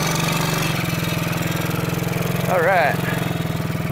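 A Coolster ATV-3125XR-8U 125cc ATV engine runs close by with a steady, loud idling putter, and a person speaks briefly over it.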